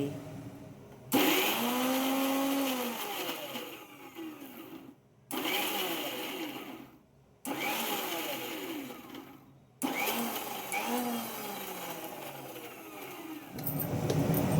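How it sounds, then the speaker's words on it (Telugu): A mixer grinder whirs loudly in several bursts, stopping and restarting with short silent gaps between runs. "ఇప్పుడు మిక్సీ మూత పెట్టి బర్రమని తిప్పేసామనుకోండి మెత్తగా అయిపోతుంది"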